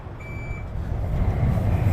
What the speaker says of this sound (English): This vehicle is reversing.